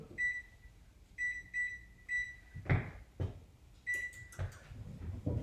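Home kitchen oven being switched on with a few short electronic beeps separated by pauses, then some clunks and knocks, quiet and close with no talking.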